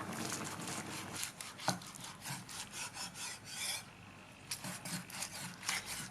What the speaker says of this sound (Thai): แล้วก็มาหั่นเป็นชิ้นค่ะ